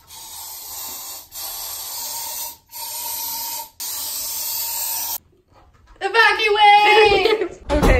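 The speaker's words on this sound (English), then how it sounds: "So let's spray this bitch." Several hissing bursts from an insecticide spray can under a sink, each a few seconds long with short pauses, followed by a voice speaking close by.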